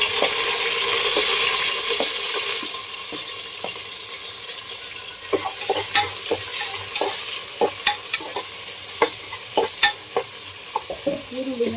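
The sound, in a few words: onion frying and being stirred for pulao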